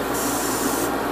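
An airbrush sprays pink paint onto a leg part from an HG Gundam model kit, a steady hissing spray that holds constant for about a second at moderate loudness, with no talking over it.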